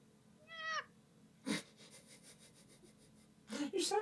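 A person imitates a cat with a short rising meow-like squeak, followed by a soft breathy noise and then a louder voiced burst at the end, close and intimate in a quiet room.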